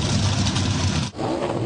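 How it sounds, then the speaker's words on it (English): A Toyota NASCAR Cup race car engine revving hard, a loud buzzing roar that briefly cuts out and then surges back. "This is the sound of a Toyota Cup car."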